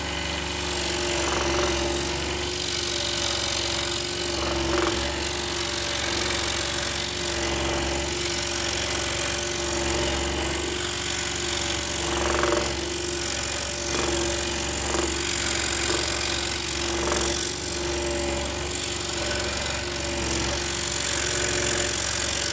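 Scroll saw cutting a wooden workpiece with a fine fretsaw blade, giving a steady, continuous mechanical buzz and rattle throughout, close and fairly loud, with no voices.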